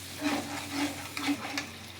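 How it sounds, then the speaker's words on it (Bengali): Salt, turmeric and ground coriander are stirred in a pan for a paneer-stuffed pointed gourd dish, giving a quiet sizzle with a few soft scraping strokes. "মশলাগুলোকে এবার একটু ভেজে নেব।"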